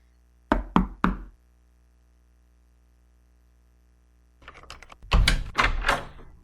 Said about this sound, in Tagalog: Katok na.